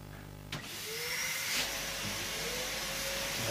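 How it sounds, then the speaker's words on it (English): Vacuum cleaners on a game show switching on with a sharp click, then a rising, steady whining roar with hissing airflow that holds continuously at close range. "Activate vacuum cleaners."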